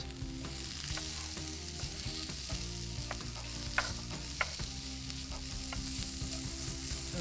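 Onions sauté steadily in a hot pan, a continuous close sizzle with stirring scrapes and a couple of sharp utensil clicks, no talking.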